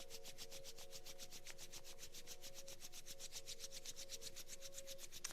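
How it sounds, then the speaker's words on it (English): Palms rubbed briskly together in prayer pose in front of the heart during a quiet yoga session, a steady rhythmic swishing friction repeating evenly throughout, close and soft with no talking. "Bring your hands together in prayer pose in front of the heart and rub your hands together."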